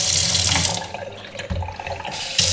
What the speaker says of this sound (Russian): это вот у нас сенсорный кран.